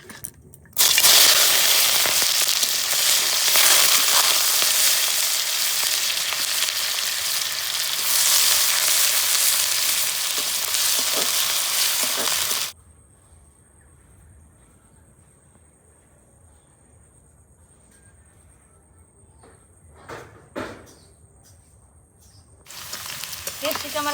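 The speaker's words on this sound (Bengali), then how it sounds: "আর বীজ আর গাজরটা ভেজে নেব।" Carrots and seeds frying in a pan for samosa filling, a loud steady sizzle and crackle for about twelve seconds that then cuts to quiet kitchen background with a few faint clinks and a brief return of sizzling at the end.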